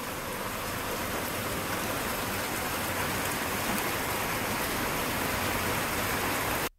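Heavy rain pouring down over farm fields, a dense, steady roar of falling water that holds constant and then cuts off abruptly at the end.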